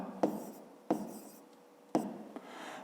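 Chalk or pen strokes on a board during a fifth-grade math lesson, three sharp taps each followed by short scratchy scrawls, close and fairly quiet with no talking.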